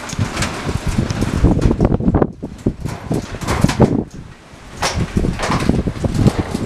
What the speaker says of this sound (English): this really isn't that strong of a wind.